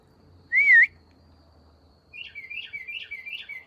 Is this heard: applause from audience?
no